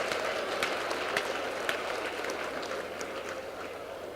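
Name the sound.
applause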